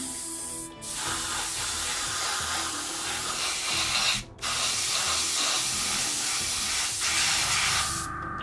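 An airbrush or spray applies a first coat of AMMO ATOM acrylic paint from about 10–15 cm, a steady loud hiss running almost continuously with three brief pauses.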